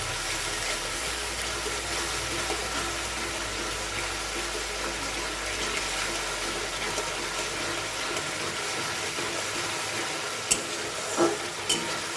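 Ghugni cooking with mutton fat and ginger-garlic paste in a pan, a long steady frying hiss with a low hum beneath and a few sharp spatula clinks near the end.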